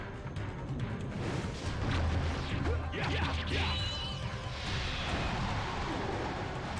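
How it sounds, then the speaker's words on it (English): A tornado spell cast during combat in the video game Blood Will Tell, a sustained swirling whoosh with sharp crashing hits and rising streaks layered over constant battle noise for several seconds, loud and dense throughout. "Let's try this tornado."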